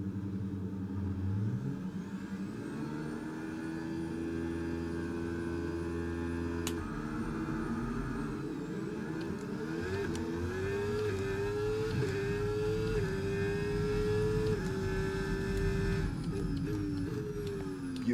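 Formula 1 race cars in the F1 25 video game idle and rev on the grid, then launch together at the race start, engines climbing in pitch through gear changes, loud and continuous with no talk.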